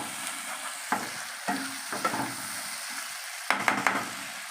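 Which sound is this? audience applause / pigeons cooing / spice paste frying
spice paste frying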